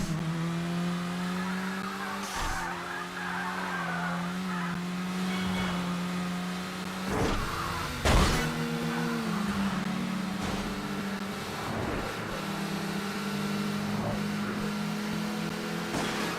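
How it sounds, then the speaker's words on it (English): Coupe car engine from the racing game Burnout 3: Takedown, a steady droning engine note that shifts pitch through gear changes, punctuated by several sharp impact bangs and tire screeches, loud and continuous with no talk. "The Coupe, I was just about to say, has a different sounding engine"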